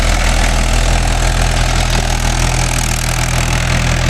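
A Mahindra 575 DI tractor engine runs steadily with a 9-tine cultivator in farmland, giving a loud, continuous low idling rumble with constant vibration and no talk over it.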